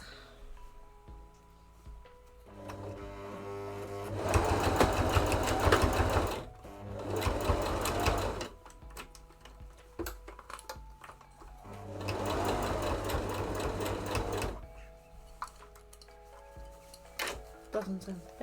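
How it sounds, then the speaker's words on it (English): A sewing machine stitches a pair of shorts in two long, loud bursts of rapid mechanical chatter, with quieter handling clicks and pauses between runs close by. "So right now I'm just stitching it closely to another stitch that I already have."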